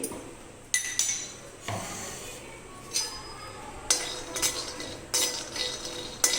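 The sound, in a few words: peanuts dry-roasting in a pan without oil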